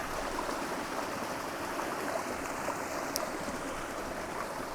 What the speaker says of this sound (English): All the rain kind of collects down the hills and has to go somewhere.